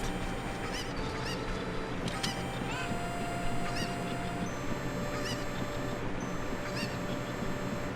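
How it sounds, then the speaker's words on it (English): Cuckoo chickens from the Zelda: Ocarina of Time video game, clucking and honking in short repeated calls that sound all the way through, set against steady game ambience with no talk. "someone's been very irresponsible with these chickens, these cuckoos, because they've gotten everywhere"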